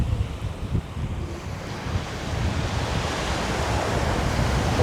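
Ocean waves roll in at a beach on Disney's Lookout Cay, a continuous close roar of surf mixed with gusting wind noise that swells slightly louder toward the end.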